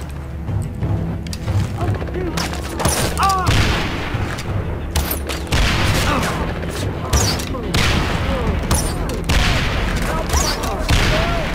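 In Far Cry 3, a crafted grenade launcher fires, and a burst of loud, overlapping booms and blasts follows, with gunfire crackling around them in a chaotic battle.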